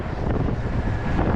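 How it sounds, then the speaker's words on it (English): Strong wind, gusting near 20 knots over open water with whitecaps and an outgoing tide during a kayak trip, roars steadily across the microphone as a loud, unbroken rushing buffet. "the wind's picked up a lot"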